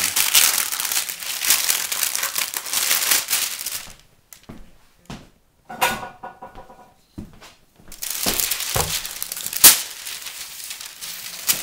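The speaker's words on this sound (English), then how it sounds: "taking your cookie sheet and placing your parchment paper onto it" Sheet of parchment paper crinkling loudly as it is handled and laid onto a cookie sheet, bursts of crisp rustling broken by a short quieter stretch, with no talk.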